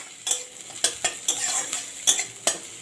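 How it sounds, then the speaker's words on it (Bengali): Chopped onion fries in oil with tempered spices while a spoon stirs, giving a soft continuous sizzle broken by about half a dozen quick metallic scrapes against the pan. "পেঁয়াজটাকে হালকা করে রং ধরা তখন ভেজে নেব"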